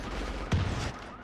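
A single gunshot burst in the video game Tom Clancy's The Division, a short sharp crack over a low background hum, fairly faint and alone.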